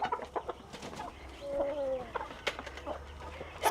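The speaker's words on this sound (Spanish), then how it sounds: "Y allá esperan otras gallinas." Chickens in a farmyard coop cluck softly and intermittently, with a short drawn-out squawk midway over quiet rustling.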